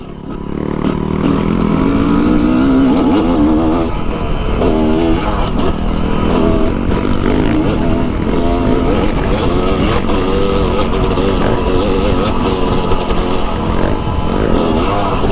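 A motorcycle engine on a warm-up ride revs loudly and steadily up close. Its pitch rises and falls as the throttle opens, with little talk over it.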